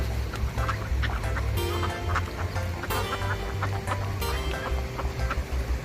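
Domestic ducks quack again and again in a busy poultry yard, with repeated nasal calls over steady low clucking and murmuring from other fowl, loud and close throughout.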